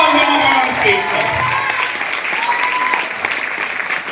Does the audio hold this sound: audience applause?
yes